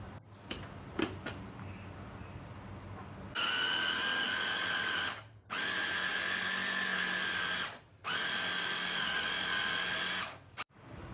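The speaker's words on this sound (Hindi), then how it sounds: "अब हम इसके अंदर लहसुन और अदरक का पेस्ट डालेंगे और इसको चॉप करेंगे, अच्छे से फाइन चॉप करेंगे।" Electric chopper finely chopping garlic and ginger paste, running in three steady whirring bursts of a few seconds each with brief stops between, loud and close, after some faint clattering at the start.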